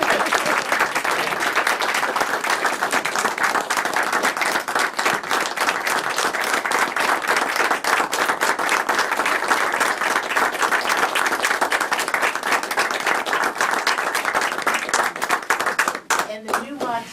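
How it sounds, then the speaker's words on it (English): A room full of people at a Shaw University board meeting claps steadily for about sixteen seconds, a dense, even round of applause that tapers off at the end. "a round of applause"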